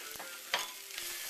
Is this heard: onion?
yes